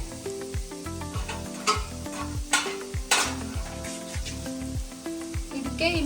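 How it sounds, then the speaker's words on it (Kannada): Mushroom masala is mixed and fried in a pan, giving a close, busy sizzle with repeated scraping and stirring strokes throughout. "ಚೆನ್ನಾಗಿ ಮಿಕ್ಸ್ ಮಾಡಿಕೊಂಡು ಫ್ರೈ ಮಾಡ್ಕೋಬೇಕು"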